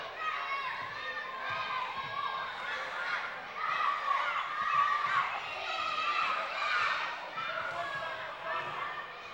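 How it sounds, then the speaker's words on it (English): A high school basketball crowd cheers and shouts in a gym, a dense, swelling roar of many voices that peaks midway. "Crowd really pumped here tonight."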